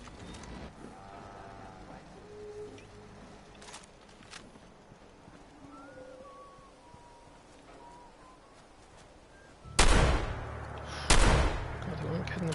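Heavy-recoil gunfire in Fallout 4, two loud, sharp blasts near the end, spaced about a second apart, after a stretch of quiet ambient game sounds and faint tones.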